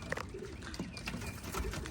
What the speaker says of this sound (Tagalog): So ayan yung mga ibon.